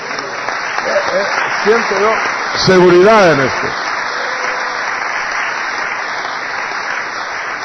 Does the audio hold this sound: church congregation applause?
yes